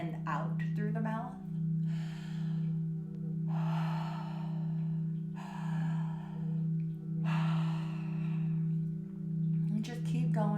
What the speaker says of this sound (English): So breathing in through the mouth and out through the mouth.